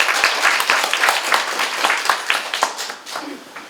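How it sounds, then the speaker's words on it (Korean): Audience applause at a Korean policy forum on jjokbang housing conditions, welcoming a Daegu speaker; dense clapping from a seated crowd, steady and then tapering off toward the end. "박수로 청해 주시죠"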